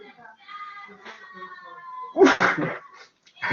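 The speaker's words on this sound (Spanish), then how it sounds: "hay un golpe de estornudo" A person sneezes during a lecture on sales and financial budgets: one sharp, loud burst, quickly followed by a second, breaking a quieter stretch of background sound.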